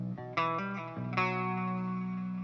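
A music track with an added delay effect sends quiet echoes of its sustained, distorted tones; the notes step through several short changes before settling into a long held chord, with no talk.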